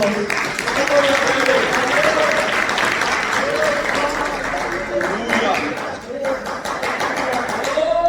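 A church congregation at a sisters' congress claps in praise, a dense, continuous round of hands close by with voices singing or speaking over it.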